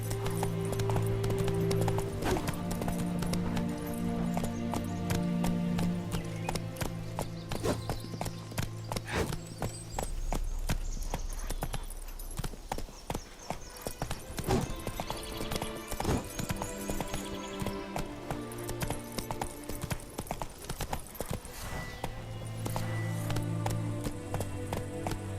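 Roach, a horse in The Witcher 3, clip-clops steadily with rhythmic hoof strikes over music, sustained throughout at close range.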